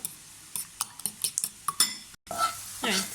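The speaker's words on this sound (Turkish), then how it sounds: "Sebzelerim iyice sotelendi." Vegetables sauté in a hot pan, with a spatula clinking and scraping against the metal in quick bursts over a low sizzle, then a louder hiss of frying near the end.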